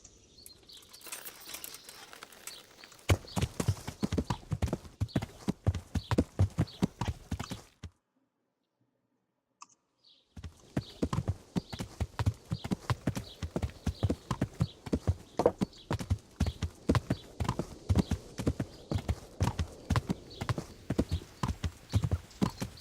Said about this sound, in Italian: Proprio obbediente sto cavallo.